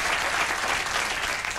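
Studio audience at a late-night comedy monologue breaks into sustained loud applause, a thick continuous wash of clapping with no pauses.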